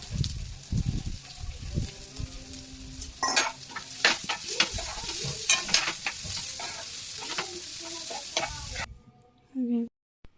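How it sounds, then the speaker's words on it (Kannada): Roasted cluster beans tumble into a pan and are stirred through spiced powders, bringing loud scraping and sizzling with clattering spoon strokes, before the sound drops away abruptly near the end. "ಇವಾಗ ಇದಕ್ಕೆ ಹುರಿದಿಟ್ಕೊಂಡಿರೋ ಚೌಳಿಕಾಯಿನ ಹಾಕ್ಕೊಳ್ತಿದ್ದೀನಿ"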